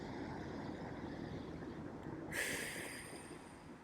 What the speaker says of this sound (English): I can just breathe.